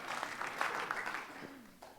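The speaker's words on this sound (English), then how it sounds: "You may all applaud right there." Applause from an audience at a contemporary worship talk, a steady broadband patter of many hands lasting the full two seconds, moderately distant and tapering slightly at the end.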